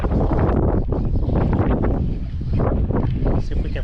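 Strong wind roars steadily across a lake during a bass fishing trip in hydrilla weeds, buffeting the microphone with loud, continuous rumbling gusts and rustle throughout.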